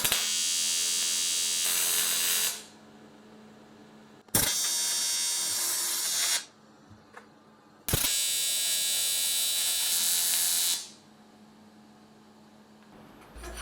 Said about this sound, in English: I can tack the first few joints so the whole thing becomes one piece